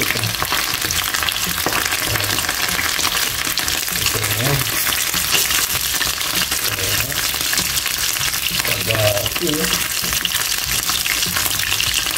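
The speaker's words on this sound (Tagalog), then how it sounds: "hintayin na lang natin yung ating piniprito" Blue crab fries in hot oil with a steady, dense sizzle and crackle that runs unbroken throughout, close and fairly loud, with faint occasional clatter from stirring.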